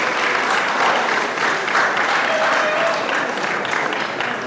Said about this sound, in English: Can we give them one more round of applause, please?